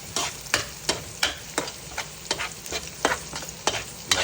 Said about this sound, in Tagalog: Lagyan na natin ang bawang. Halo-haloin natin hanggang sa maging medyo